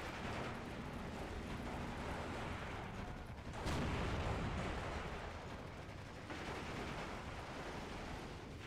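Tank gunfire in the World War II strategy game Steel Division II booms out as a heavy, rumbling blast amid a continuous noisy battlefield din, with a sharper crack and lingering roar midway through.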